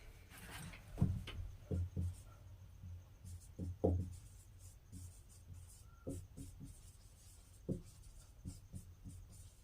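Chalk or marker tapping and scratching across a classroom board in short separate strokes, faint and close in a quiet room.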